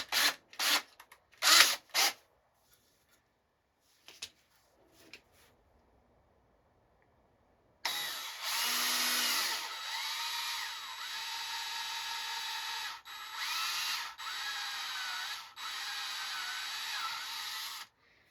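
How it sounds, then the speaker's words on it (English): A few sharp knocks and clicks, a pause, then a power drill whirs loudly in sustained bursts with brief dips as it bores a 5/16-inch hole. "So we're going to drill a 5/16 hole in the center there."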